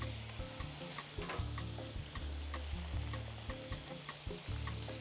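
Onions and crisping potatoes fry in a pan for a Spanish frittata, giving a steady close sizzle broken by rhythmic scrapes and tosses of the spatula, quiet overall and without talk.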